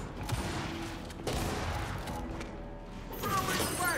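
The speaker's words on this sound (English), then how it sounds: "I get hit by two cannons at once" Cannon fire in a multiplayer video game, a burst of booming, crashing hits with mechanical rattles, fairly faint and compressed, two impacts landing close together.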